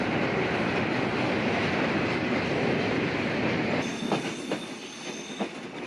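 The Rupsha Express arrives at Pakshi railway station in Bangladesh with a loud, steady roar of wheels and carriages. The roar then eases into sparser clacks and rattles as it slows.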